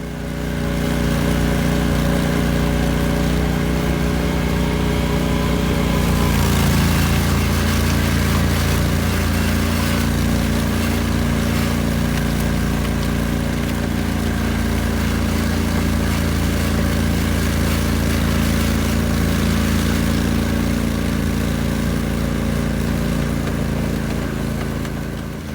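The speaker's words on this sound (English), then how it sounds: "Argo is an 8-wheeled amphibious machine, and this machine has tracks on it," Engine of an Argo 8-wheeled amphibious vehicle fitted with tracks, a loud steady droning mid-pitched motor with a constant tonal hum, running close by without a break and with no talk.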